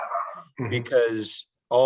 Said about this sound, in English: And I apologize for the dog barking in the background.